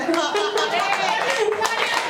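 Audience at a Hindi poetry recital on women's empowerment claps briefly while voices talk over the clapping.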